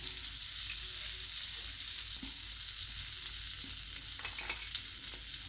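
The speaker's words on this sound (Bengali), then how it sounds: "এবার আমি গ্যাস জ্বলিয়ে কড়া বসিয়ে সামান্য একটু বাটার দিয়ে দিলাম" Butter melts and sizzles in a hot kadai on a gas flame, a soft continuous frying hiss with faint crackles and a few light clinks, quiet and close, with no talking.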